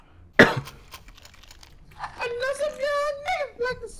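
A single sharp, loud cough right up close from a player during a Counter-Strike: Global Offensive match, followed by someone talking.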